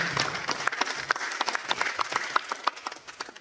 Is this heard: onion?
no